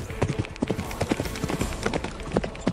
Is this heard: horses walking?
yes